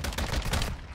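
Lachmann 762 rifle fire in Modern Warfare 2, a rapid dense burst of loud automatic shots that runs continuously for about a second.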